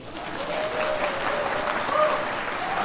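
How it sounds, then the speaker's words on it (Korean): A crowd at an outdoor political speech applauds steadily, a dense wash of many hands clapping at a moderate distance with a faint whistle mixed in. "박수 한번 박수"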